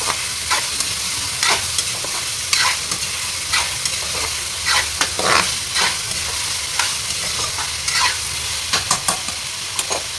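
Potatoes frying in a pan are stirred with a utensil, with a steady loud sizzle underneath and repeated scraping clacks of the spoon against the pan at an irregular pace.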